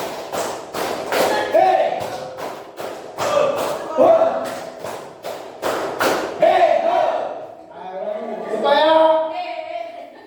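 A group plays the Tepuk clapping game, clapping hands in steady rhythmic bursts broken by short pauses, with voices speaking and calling between the rounds.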